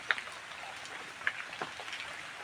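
Heavy rain falls with wind over a flooded vegetable garden, a steady, fairly quiet hiss broken by a few sharp drips and ticks close by, with no talk.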